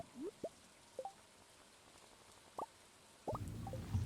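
Rain in the video game Stardew Valley, sparse soft plopping drops scattered over quiet, then a denser patter of rain on a surface near the end, faint and with no voices.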